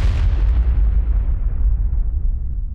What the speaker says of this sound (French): Philippe Nibel, un Français, assiste en direct à l'explosion